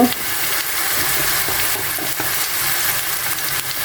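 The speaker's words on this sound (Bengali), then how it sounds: "পেঁয়াজ বাটা দিয়ে 2-3 মিনিট কষিয়ে নেব" Onion paste fries in a pan for a potato, pointed gourd and hilsa curry, making a loud, continuous crackling sizzle with faint scraping from stirring throughout.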